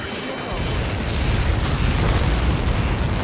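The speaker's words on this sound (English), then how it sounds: "How many got caught in that explosion?" A huge explosion in the Ace Combat 7 flight game booms out as a dense, sustained roar that swells and rumbles for several seconds.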